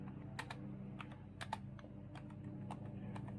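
Fingers tap on a computer keyboard in quick, irregular bursts of soft clicks over a low, steady indoor hum, fairly quiet and close.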